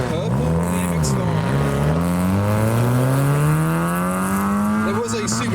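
Modified Ford cars pull away from a car show in heavy rain, one engine revving up steadily and loudly close by, its pitch rising as it accelerates over constant wet road noise.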